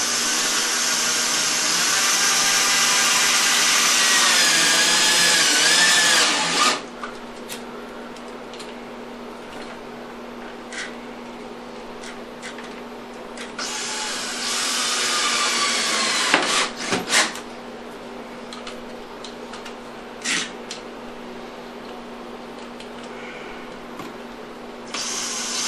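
A power driver drives screws through a plastic extension flange into a toilet flange, heard as a loud, close whirring burst at the start and a second shorter run midway, with scraping and handling noise between.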